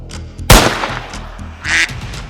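Ducks quack in an on-screen duck-shooting game during a grand-final competition, with a sharp loud burst near the start followed by a couple of quieter quacks and a brighter squawk toward the end.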